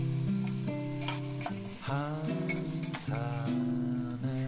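Chicken tinola with lemongrass is stirred in a pot as it cooks in its own juices, a utensil scraping and clinking in a close, steady rhythm while music plays loudly over it.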